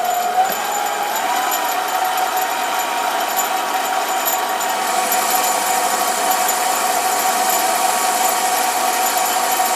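Close and continuous, a mini lathe cuts a small metal part, making a steady motor whine with a bright, thin cutting tone that holds level throughout.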